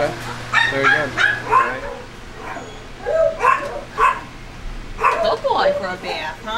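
Hunting dog giving several short barks and yips in irregular bursts, close and fairly loud, with a quieter whimpering tone between them.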